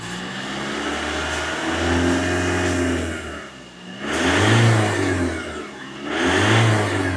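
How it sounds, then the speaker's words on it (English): A Ford Transit van engine with a deleted DPF revs up twice as the throttle is pressed, each rise and fall loud and close, with a steady idle hum between the bursts. "if I go touch the throttle a little bit"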